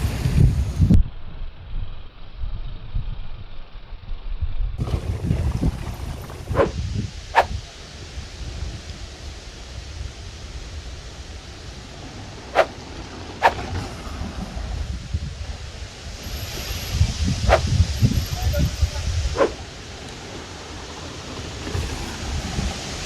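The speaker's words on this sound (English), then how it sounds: "Windy." Gusty wind at a mountain bike park, rumbling and buffeting the microphone in uneven bursts, with a few sharp clicks and a quieter stretch between gusts.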